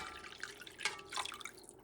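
Water and stock pour into a soup pot for Puerto Rican sausage soup, a brief splashy trickle with a few dripping splashes, close and moderately quiet, without speech.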